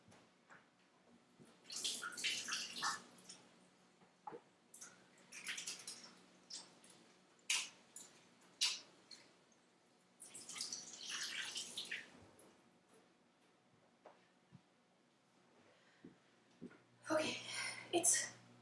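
Tap water runs into a kitchen sink for hand washing while baking snickerdoodle cookies, coming in several rushing bursts with pauses between them, moderately quiet.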